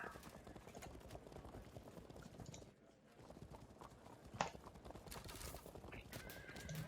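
Horse archers' hooves clatter in the Field of Glory II strategy game, a busy clip-clop of many horses with occasional whinnies, moderately close and continuous, a voice faintly present beneath.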